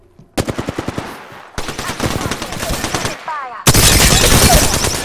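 Loud, close machine gun fire in a video game comes in three rapid bursts, the first a crisp rhythmic rattle, the later ones denser and heavier with a brief pause between.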